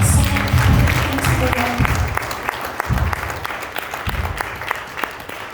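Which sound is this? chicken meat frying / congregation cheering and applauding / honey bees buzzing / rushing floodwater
congregation cheering and applauding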